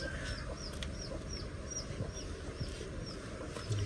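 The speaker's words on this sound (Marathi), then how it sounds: "ती वरच कोंबडी आली बघा खावाला" A chicken clucks in short repeated high calls over steady outdoor background noise near a fishing spot, faint and at a distance.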